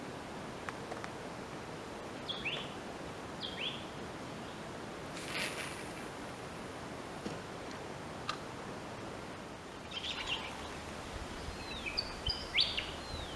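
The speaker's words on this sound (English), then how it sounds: "One of the pretty birds that hang around here." Small birds give brief, faint chirps and tweets beside a billabong on a fishing outing, scattered across a quiet outdoor background with a few soft ticks and knocks.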